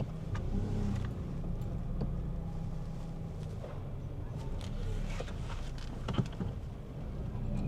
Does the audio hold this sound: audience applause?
no